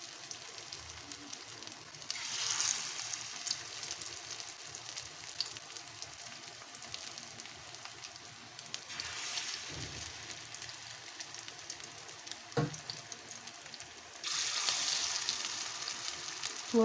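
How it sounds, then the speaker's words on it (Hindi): Masoor dal kababs fry in hot oil in a steady, close sizzle that runs through the whole stretch, swelling louder at moments, with faint clinks and no talk. "ऑयल गरम हो चुका है तो अब हम इसमें डाल देते हैं कबाब।"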